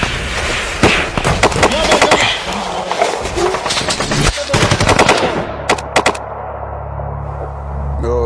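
Gunfire from an unseen enemy erupts in rapid loud bursts, irregular volleys of sharp cracks that stop abruptly near the end, leaving a low rumble beneath.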